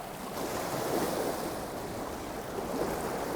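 Surf crashes onto the shore during fishing, a continuous loud, close rush of breaking waves mixed with wind buffeting the microphone.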